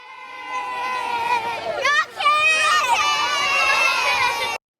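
A crowd of supporters gathered outside a boot room cheers and shouts together, a loud, dense wash of many voices with rising whoops, continuous and close.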